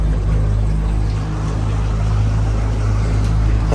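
An outboard motor on an aluminium tinny drones loud and steady up close, with heavy low rumble and wind or water rush filling the whole stretch. A slight dip occurs partway through before the motor holds at a constant pitch.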